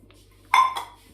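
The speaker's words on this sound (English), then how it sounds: "you've got the usual pan, cup, call it what you will really" A metal camping pan and cup set from Temu is handled, giving one bright ringing clink followed by a shorter metallic tap that quickly decays in an otherwise quiet space.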